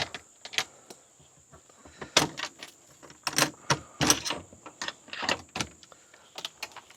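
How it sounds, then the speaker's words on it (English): Wooden duck coop doors open with a series of sharp clicks, knocks and latch rattles, close and irregular, with quiet gaps between the hits. "The doors open up"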